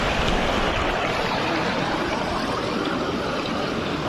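River flowing along a riverbank at a riverside campsite in India, a steady dense rush of water close by, unbroken throughout with no voices.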